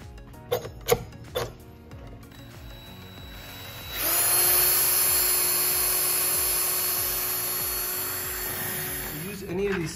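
A few sharp clicks, then a high-pitched power drill whines steadily into metal, boring a pilot hole for a rivet nut on a car, for several seconds before winding down.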